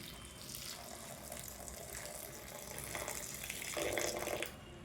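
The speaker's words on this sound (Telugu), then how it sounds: "ముందుగా గోరువెచ్చని నీళ్ళు మిల్ మేకర్లో వేసుకోవాలండి." Warm water is poured over dried soya chunks (meal maker) for a curry, a soft, steady splashing stream that swells slightly toward the end, faint and with no voices.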